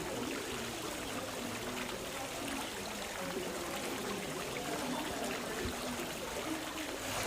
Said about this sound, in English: there is a gorgeous little water feature right behind us